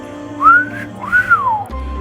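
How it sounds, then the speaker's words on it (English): Whistling rises and falls in two short melodic calls over a low background murmur in a state penitentiary courtyard where inmates are out, with the whistles standing out clearly and fairly close. "you can hear the noise, whistling"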